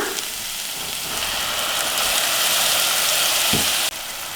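Fenugreek leaves frying with masala in a pan give a steady, close, broadband sizzle and crackle that runs without a break, with a short stir or scrape near the end.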